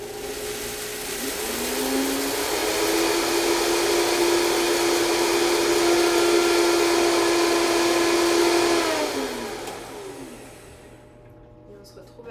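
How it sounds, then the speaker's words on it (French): Oat flakes are ground into flour in a kitchen blender, a loud steady motor whine that rises, holds for several seconds, then winds down and stops. "on va déjà commencer par mixer les flocons d'avoine pour les réduire en poudre"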